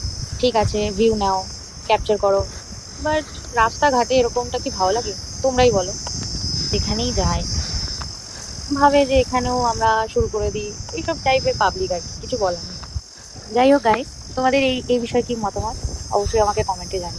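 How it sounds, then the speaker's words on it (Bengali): Crickets chirp steadily along a road at night, a continuous high shrill drone running the whole time beneath a person talking at length. "যত দূরই যাবে শুধু ঝিঝি পোকার ডাক আর ডাক।"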